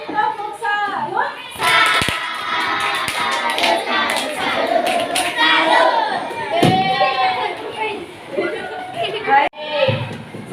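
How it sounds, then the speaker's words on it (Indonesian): A primary classroom of children claps a rhythmic salute cheer, with bursts of hand claps mixed with loud chanting voices and excited chatter throughout, close and lively. "kalau benar kita kasih tepuk salut"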